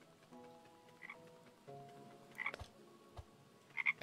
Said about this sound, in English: I can't hurt the frog.